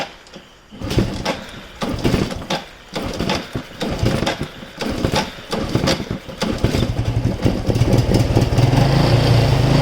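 A Yamaha Finn motorcycle with an odd running fault, its engine repeatedly blipped in short uneven revs to keep it from stalling, loud and close, settling into a rougher continuous run toward the end.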